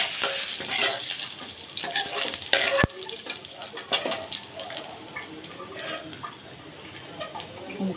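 Bay leaves frying in oil with fried coconut for a wedding-style dal, giving a steady close sizzle with stirring clatter and a sharp tap, plus faint background voices.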